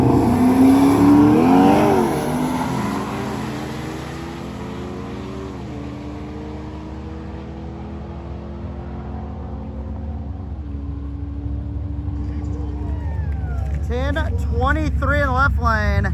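A C8 Corvette and a first-generation Camaro race at a drag strip, with loud engine roar close by at first that fades as they pull away, then comes back at the end. Someone talks over the engines.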